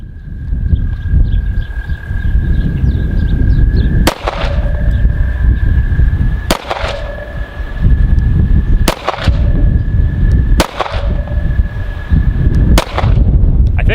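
Five sharp, loud shots from an Arsenal Strike One pistol at an outdoor range, spaced a couple of seconds apart, each cracking over a steady background with a faint high tone.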